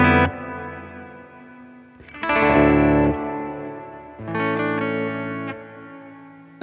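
Electric guitar chords played through a Strymon Cloudburst reverb pedal, a few sustained strums swelling into a lush wash of reverb that rings out between hits, loud and close with no voices.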